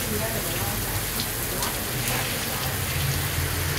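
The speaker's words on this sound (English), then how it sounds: "Hail in San Francisco." Rain mixed with hail pours down in San Francisco, a dense continuous patter and hiss of drops striking surfaces close by, steady and loud without a break, with faint voices beneath.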